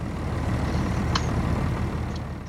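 Vehicle engine in Farming Simulator 19, during sugar beet harvesting, a steady low rumbling drone that runs the whole time, with a couple of faint short clicks and no talk.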